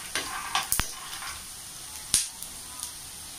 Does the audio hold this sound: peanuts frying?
yes